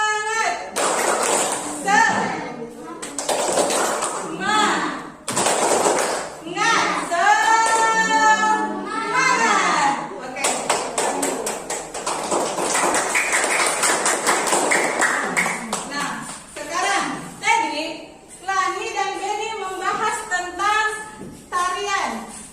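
Elementary schoolchildren in a classroom perform the rhythmic Indonesian spirit clap, sharp hand claps and taps in quick patterned bursts, mixed with loud children's chanting and voices throughout.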